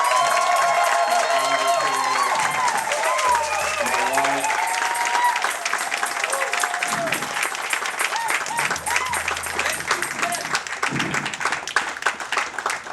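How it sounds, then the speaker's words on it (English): A church congregation breaks into loud sustained applause that fades into scattered claps, with a voice speaking over it. "Please give these guys a round of applause."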